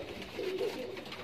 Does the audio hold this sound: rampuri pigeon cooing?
yes